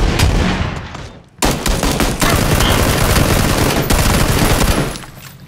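Automatic gunfire in the battle royale game PUBG, sustained loud bursts of rapid shots filling the scene with a brief break after about a second, then continuous fire that tails off at the end.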